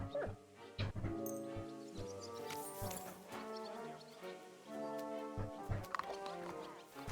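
A dog in the medieval video game Kingdom Come: Deliverance II gives short barks and soft whimpers over a quiet musical background, with brief sounds like hoof clops in between.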